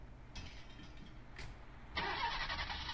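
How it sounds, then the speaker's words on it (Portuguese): A vehicle engine starts in the game Fleeing the Complex: low rumble first, then a sudden loud, steady roar that kicks in partway through and holds to the end. "Você deu partida."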